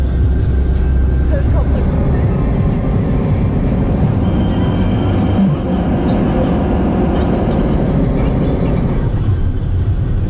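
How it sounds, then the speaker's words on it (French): A loud, continuous rumble of a double-decker train rolling past close by in Canada, with rattling wagons and a steady low roar throughout. "Petite présentation des trains au Canada."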